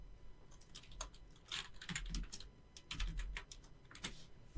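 Quick bursts of computer keyboard typing, including a select-all and delete, with crisp clicks in uneven clusters, close and moderately loud against a low background hum, no voices.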